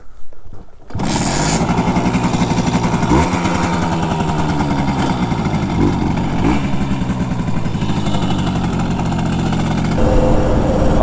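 Simson S50/S51 two-stroke moped being ridden, its buzzing engine steady and loud up close after a brief quiet start, with small shifts in pitch as the throttle changes.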